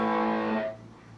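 An electric guitar sustains a chord through distortion from a Boss GT-8 effects unit, buzzing with harmonics for about half a second before it is cut off and fades into a low hiss.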